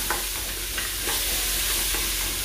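Onion and garlic sauté in a generous amount of olive oil for a chickpea stew. A loud, continuous sizzle is broken by a few soft stirring scrapes, heard up close with no speech.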